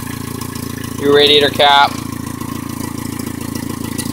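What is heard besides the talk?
1996 Geo Tracker rebuilt engine idling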